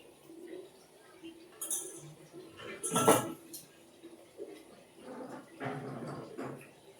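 A metal wok clanks down onto a stovetop with a short bright clatter, followed by softer kitchen knocks and rustling.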